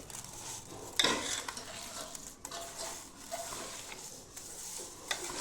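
A spoon scrapes and stirs through soft cooked pumpkin mixed with sugar in a pot, with uneven wet scraping strokes and an occasional sharp knock against the vessel over a faint background hiss.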